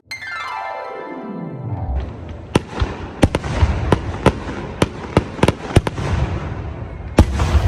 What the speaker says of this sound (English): And now, Alan Swanson blows up on fireworks.